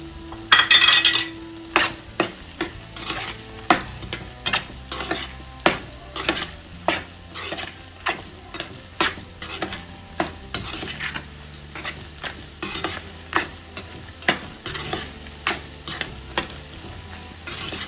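Masala and coriander powder being stirred in a pan for egg pickle: repeated rhythmic scrapes and clinks of a spoon against the pan, close and fairly loud, over a soft continuous sizzle with no talking.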